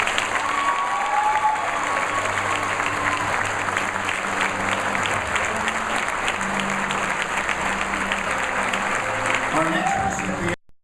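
A university audience applauds a scholar athlete at a Kansas honors ceremony, a sustained, even roar of clapping from a large crowd that carries on for about ten seconds before cutting off.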